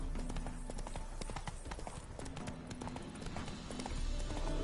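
Horse hooves clip-clop steadily in The Witcher 3: Hearts of Stone, a brisk, even trot of sharp hoof strikes close by over a continuous game ambience, with no talk.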